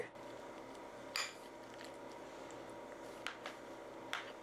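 A utensil clinks a few sparse times against a dish while ham and cranberry sauce are mixed together, with quiet room tone between the light taps.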